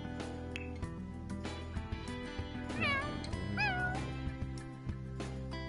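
A cat meows in The Sims 4 life-simulation game, two short rising-falling meows in the middle over steady game background music.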